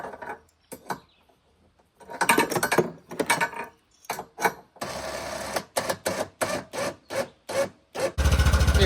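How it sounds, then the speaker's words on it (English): A newly replaced winch on a four-wheeler reels in rope with a harsh mechanical whirring and grinding. It runs in short start-stop bursts, then in a longer pull, with sharp pauses between runs. "Hey, we got the winch installed."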